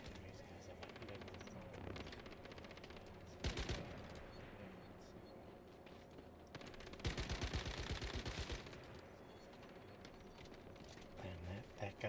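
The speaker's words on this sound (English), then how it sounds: "I can hear gunfire." Distant gunfire in the survival shooter Once Human sounds as muffled bursts and rattling volleys over a low game background, with two louder flurries standing out.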